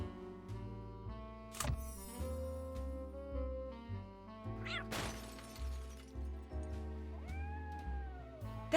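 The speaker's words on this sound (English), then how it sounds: "That's the cat Molly wants me to catch." A cat in the Nancy Drew Dossier video game lets out several sharp, loud meows and yowls over a steady electronic game score, with a crash-like burst and rising and falling wails near the end.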